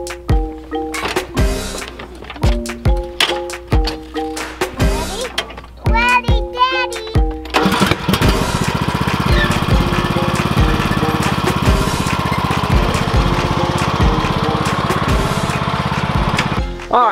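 A small vehicle engine drives around a raised-bed garden by a greenhouse, starting up after scattered thunks and children's voices, then holding a steady, loud drone to the end.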